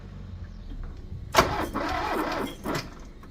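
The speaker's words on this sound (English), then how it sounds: "play a video of the car just turning over, but it never actually started." A Porsche 924 engine cranks over without catching: quiet at first, then a sudden burst of starter churning with a few uneven surges, nearby and fairly loud.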